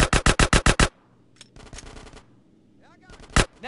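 Rapid burst of seven loud, close gunshots in quick succession from a shootout in GTA San Andreas, followed by scattered quieter shots and game noise with a brief voice near the end.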